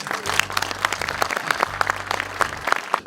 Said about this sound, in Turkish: Hadi gelin bu arkadaşları bir kuvvetlice alkışlayalım.